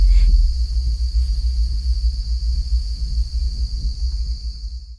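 A continuous high, thin cricket trill runs steadily throughout over a low rumbling drone, on a foggy road at a village's edge.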